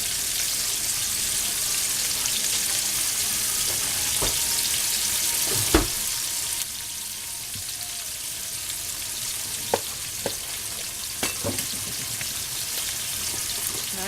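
A cod fillet pan-seared with lemon and garlic sizzles steadily and fairly softly in the pan, with a few brief clicks and taps from stirring or utensils.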